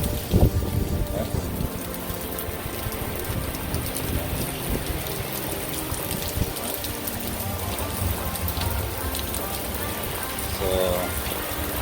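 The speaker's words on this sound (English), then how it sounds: "there's all the rain coming down." Heavy rain pouring down during Hurricane Sally, a dense continuous hiss and patter with occasional louder splashes and a low rumble underneath.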